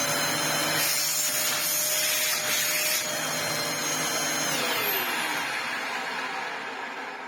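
Dyson DC04 or DC07 vacuum cleaner running on a motor with worn-out bearings, a loud close whine with a rough grinding undertone that starts to wind down and fall in pitch near the end.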